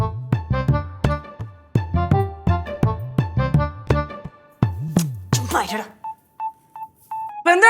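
Rapid, evenly spaced keypad beeps from a phone sound over a steady tonal background, around a dozen presses in quick succession before a few softer, shorter beeps trail off near the end.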